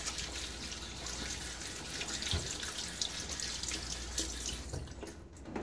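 Cold water runs steadily from a bathroom tap into a sink during a wet shave, a constant close hiss and splatter with no speech.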